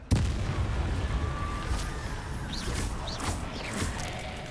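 A Bombarda spell explosion in the Hogwarts Legacy video game: one sharp blast at the start trailing into a long rumbling roar with scattered crackles and whooshes.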